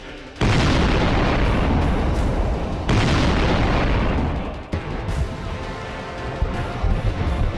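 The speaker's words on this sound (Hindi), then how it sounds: "कई तरह के वेपन सिस्टम से फील्ड फायरिंग की गई।" Pakistani army artillery and weapon systems fire during a field exercise, with two heavy booming blasts that each roll into a long rumbling tail, followed by quieter, rougher explosive noise.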